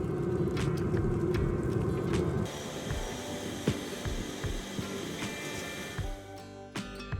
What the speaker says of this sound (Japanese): FF ヒーターを2時間ぐらい全力で試運転すると